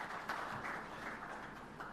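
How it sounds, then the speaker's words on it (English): Audience applause for a BRAC head of research at a radio-hosted financial inclusion event, steady broadband clapping held at an even level throughout without clear talk over it. "Let's clap for"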